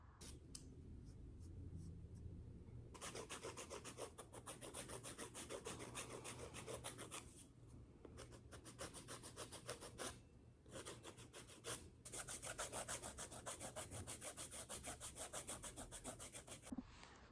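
Steady rhythmic scraping of sandpaper on wood, stroke after stroke, with a few brief pauses, close and fairly quiet.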